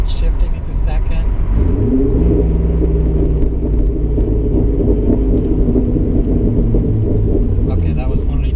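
A C6 Corvette's engine rumbles loud and close after a shift into second gear, rising into a sustained deep revving drone heard from inside the car.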